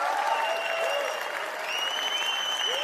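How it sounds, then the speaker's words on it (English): Crowd applause heard through an earpiece, a steady wash of many hands clapping at a moderate distance, with a voice speaking over it and some tonal sounds layered in. "Can you hear the clapping in my ear?"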